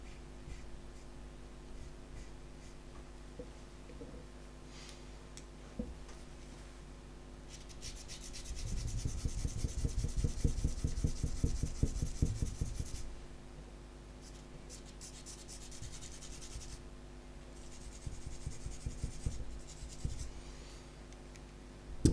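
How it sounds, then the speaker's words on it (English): A pencil eraser rubs back and forth on sketch paper to lighten a drawn landscape sky, a soft close scrubbing that swells into steady strokes midway, then thins to lighter intermittent rubs, with no talking. "So I just want to go in and erase that kind of glowing shape out of the sky for both of them."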